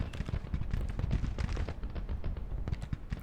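Rifle fire from the Civil War strategy game Grand Tactician pops in rapid, irregular crackling volleys, fairly faint and distant, continuing throughout with no talking over it.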